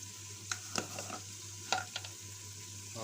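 A tomato and green chili masala sizzles softly in a pan as turmeric powder is added, with a few light spoon clinks and stirring taps over a faint steady fry.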